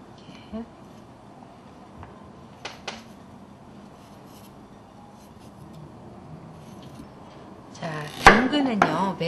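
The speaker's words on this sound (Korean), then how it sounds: "밤톨 모양으로 썰어서요." Quiet scraping and a few soft knife taps as radish is trimmed, then a louder burst of crisp chopping against a board near the end.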